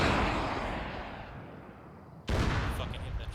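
A rocket launcher fired at a tank in a military video game: a long fading rumble, then one sudden sharp blast with a noisy roaring tail.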